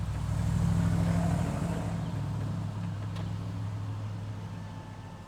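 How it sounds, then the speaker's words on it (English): The power window motor in a Lexus or Toyota driver's door runs steadily as the glass rolls up, a continuous low whirring hum close by that fades slightly toward the end, with no talking. "Now I'm going to roll it back up."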